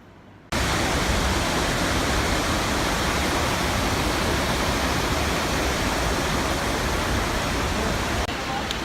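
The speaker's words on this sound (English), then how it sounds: "we just finished at the Tanganin waterfall. It's that thing that's right back there" Waterfall in Bali, the Tanganin falls, roars as a loud, steady broadband rush that starts abruptly after a brief quiet moment and holds constant throughout, close and enveloping.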